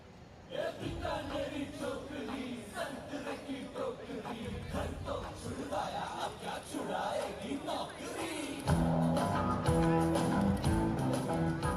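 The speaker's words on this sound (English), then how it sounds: "Let's hear a big round of applause for the Nritya Yog Dance Company." A crowd cheers and applauds loudly and continuously for the Nritya Yog Dance Company at a Ramleela celebration, with whoops over the clapping. Music comes in strongly near the end and plays under the crowd noise.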